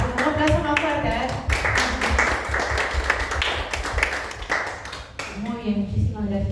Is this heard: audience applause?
yes